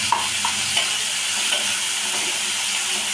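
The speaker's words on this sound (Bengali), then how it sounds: "পেঁয়াজটা একটু কুচনো পেঁয়াজটা লাল লাল করে ভাজা হয়ে গেছে।" Chopped onion fries until reddish for chicken masala, a steady close sizzle with occasional stirring scrapes, without any talking.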